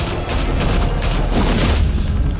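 Gunfire in the Batman Telltale Series video game: a loud, dense burst of booming shots and rapid volleys rolling continuously for a couple of seconds over low rumble.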